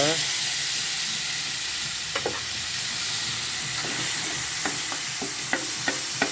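Tomatoes hit a hot pan already used for frying at a roadside cooking spot, giving a steady loud sizzle with occasional stirring scrapes and clicks.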